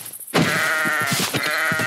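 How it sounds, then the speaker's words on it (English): Sheep in a Minecraft modpack game gives a loud, close bleat lasting over a second, a wavering nasal call that follows a short quiet moment and is heard without talking. "Ooh, sheep."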